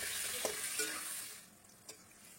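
Pumpkin pieces sizzle with a little salt in hot oil in a pan, a bright hiss with a few soft stirring knocks. The frying noise fades to a quieter simmer partway through, with one more faint clink near the end.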